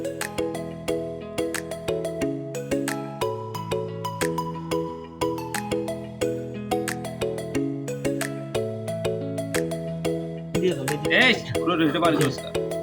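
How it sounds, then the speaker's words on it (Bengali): A phone ringtone melody plays in a repeating, steady pattern during an outdoor fish barbecue in Hatiya, with voices and clattering noise surfacing near the end. "কে জানি কল করছে"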